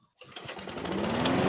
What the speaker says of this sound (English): lawnmower sound, whatever that means.